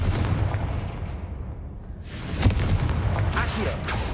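In Hogwarts Legacy, a Confringo fire spell lets off a loud booming blast over a rumbling game backdrop, and a second burst follows shortly after.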